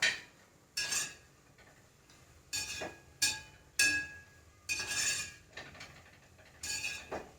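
Peanuts and roasted gram stirred in a pan with sesame, giving repeated metallic scraping and clinking strokes in an uneven rhythm, close and moderately quiet, each stroke a short rattling burst.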